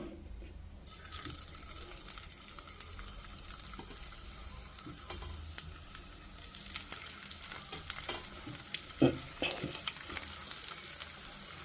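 Breakfast snacks fry slowly in oil over a low flame, a soft continuous sizzle with occasional light clinks and stirring, faint and close, with a brief louder knock near the end.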